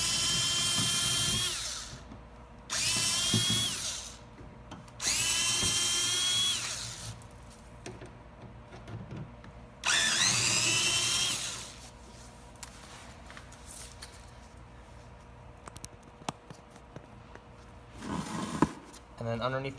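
A power drill backs three Phillips screws out of the side of a 10th-generation Honda Civic coupe's rear bumper, sounding as short, loud whirring bursts separated by pauses, with a quieter rattle and handling noises between them.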